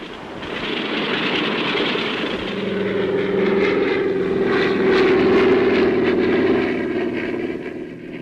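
A small propeller airplane taking off, its engine droning steadily and loudly throughout, the pitch rising and swelling toward the middle before easing slightly.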